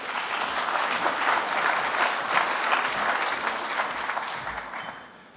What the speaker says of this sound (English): So a huge round of applause for Ian Fordham, please.